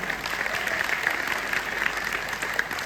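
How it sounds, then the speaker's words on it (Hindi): An audience at a mushaira poetry recital in Delhi claps steadily, a moderately loud wash of many hands with faint crowd murmur mixed in. "एक बार आप ताली बजा करके मुझे माहौल दें"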